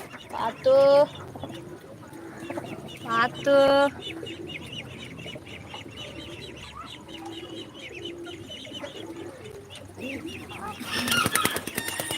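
Chickens cluck and a rooster gives short loud calls among other farm birds such as pigeons in a backyard bird farm, with bursts of squawking, steady background chatter and people talking nearby.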